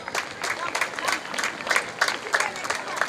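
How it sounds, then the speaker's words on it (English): Crowd at a school's annual sports meet cheering and applauding steadily throughout, a dense wash of clapping with scattered shouts, fairly close and continuous. "Keep cheering for all the house's children."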